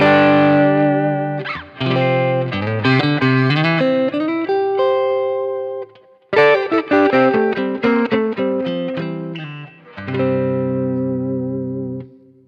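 An electric guitar plays through a Keeley Muse Driver overdrive pedal in AT mode into a clean Fender-style amp, with all knobs at noon. Two overdriven phrases of picked notes and ringing chords come through, separated by a short gap.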